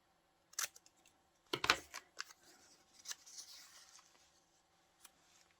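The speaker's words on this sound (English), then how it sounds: "let's see if I can cut this straight" Scissors snip through a printed digital paper image for a cowgirl-themed junk journal page, giving a few short, close cuts and papery rustles in a quiet room.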